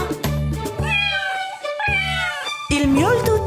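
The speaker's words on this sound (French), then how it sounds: "Ils miaulent toute la journée dans la drôle de ferme de Papy Henri" Several cats on a farm meow in turn, with three or four drawn-out, rising and falling calls close to the listener, separated by short gaps.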